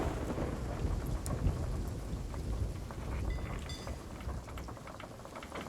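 Thunderstorm in a video game, with steady heavy rain and low rolling thunder rumbling throughout at an even, loud level, and a few faint higher clicks and tones near the end.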